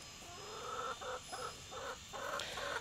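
Young backyard hens cluck in short repeated bursts, a faint, close series of soft calls over a steady background hum.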